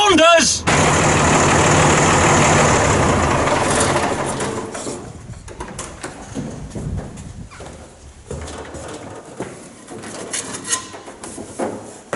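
A tractor engine fires up with a loud, dense mechanical roar for several seconds, then settles into a quieter, uneven idle. Nearby voices talk over it.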